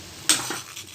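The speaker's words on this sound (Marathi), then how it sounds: "हलवून घ्यायचं रस टाकून" Gulab jamun stirred in sugar syrup in a metal pan, a short scrape and clink of a spoon against the pan, close and fairly soft, followed by a fainter second scrape.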